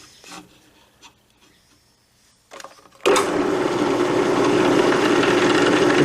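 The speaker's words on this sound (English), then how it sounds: "this is a 3/32 bit, and all I do is I go from hole to hole, and I'll drill all of these" A drill press driving a 3/32 bit into a fillet knife handle after heat treatment: a few quiet clicks and handling sounds, then the motor starts abruptly and runs with a steady, loud whirring grind.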